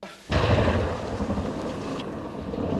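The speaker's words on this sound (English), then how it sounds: "After a bright and loud lightning and thunder strike" A loud thunder strike following a bright lightning flash bursts in after a brief quiet start, rumbling broadly and heavily, then rolling on with steady low-end noise like rain and storm wash.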